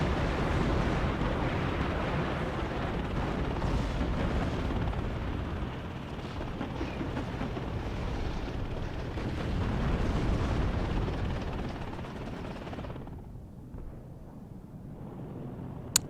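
In the WARNO war game, AH-1F and Apache attack helicopters fire on units amid explosions, a dense, rumbling roar of distant blasts and gunfire that thins out and fades toward the end.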